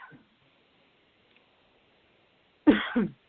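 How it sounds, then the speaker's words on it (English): A single harsh bronchitis cough bursts out close by after a long near-silent stretch, two quick rasping pulses. "you guys will have to bear with me if I'm coughing"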